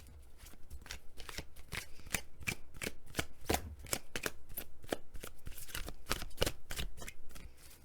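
A deck of tarot cards is shuffled close up, a rapid series of crisp riffling bursts repeating steadily at a quiet level with no talking.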